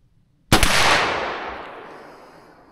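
A single .357 Magnum round fired from an 18-inch carbine barrel: one sharp, loud, close blast that rings out and decays slowly over about two seconds, with no voices.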